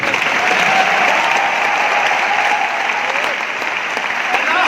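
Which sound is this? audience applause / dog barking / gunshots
audience applause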